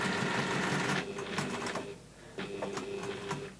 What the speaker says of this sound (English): I will start sewing then on my lining here